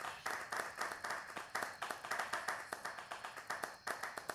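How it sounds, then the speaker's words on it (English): A small group claps at an online talk series on metaverse and sustainability, a quiet, rhythmic run of distinct hand claps with a loose, regular beat, heard alone without talking. "Yes, let's clap."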